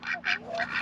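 Large farm ducks or geese honk in a few short, nasal calls spread over under a second, fairly close and moderately loud, with no talking.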